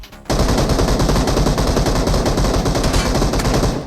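Sustained automatic gunfire bursts out in BGMI (PUBG Mobile) as enemies fire while lying prone, loud, dense and continuous after a brief quiet start, with no talk over it.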